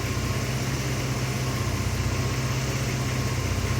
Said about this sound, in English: we have to have the engine running because we killed the battery.